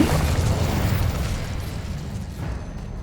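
A fire spell, Incendio, is cast in the video game Hogwarts Legacy, producing a loud, roaring burst that rumbles and gradually fades over a few seconds.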